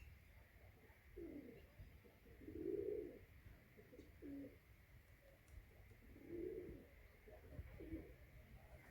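Soft, low pigeon coos repeat in several separate bursts over a quiet background, fairly faint and unhurried.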